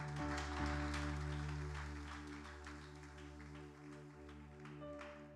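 A church congregation claps and cheers in a sustained burst of applause over steady sustained music, fairly loud and fading slightly toward the end.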